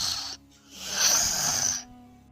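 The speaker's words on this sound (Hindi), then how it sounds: "थोड़ी देर में खर्राटे लेने लगते हैं" Cartoon animals asleep under a tree snore, a breathy rasping snore that pauses briefly, then swells into a longer, louder drawn-out snore before fading.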